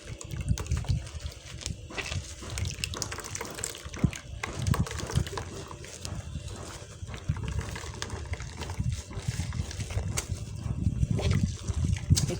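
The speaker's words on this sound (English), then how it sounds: "You pour the milk into the cheesecloth. And then you let it drain out." Homemade soya milk is poured into cheesecloth and left to drain, giving an uneven gushing splash and trickle of liquid that runs close and fairly loud for the whole stretch, with no talking.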